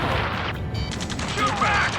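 Gunfire in the Ace Combat 7: Skies Unknown video game during a rescue mission: a steady wash of distant automatic fire and rumbling explosions runs throughout, beneath urgent radio voices calling out orders.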